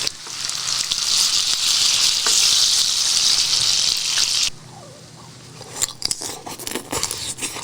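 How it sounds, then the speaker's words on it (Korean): Green onion kimchi grilling and sizzling loudly and steadily on a hot surface for several seconds, then the hiss cuts off abruptly, leaving quieter crackles, clinks and light handling noises. "대파김치 하나만 구워볼까?"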